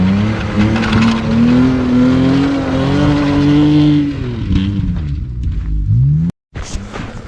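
A BMW E36 Compact's engine revs hard and steadily while drifting on an icy winter track, holding a loud, near drone with shifting pitch before easing off, cutting out briefly, then surging again.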